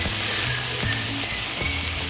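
Beef sisig sizzles and fries steadily in a hot pan, a dense continuous crackle with a few soft clinks and stirring knocks, close and fairly loud with no talking.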